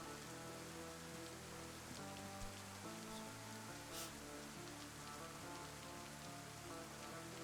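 Rain falls in the video game DayZ as a soft, steady patter of drops on surfaces, with low humming tones under it and no talk.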